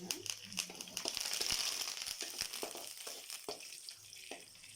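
Curry leaves dropped into hot oil with red chilli and garlic for onion chutney, a faint crackling sizzle with light rustling and sharp pops, fairly quiet and close.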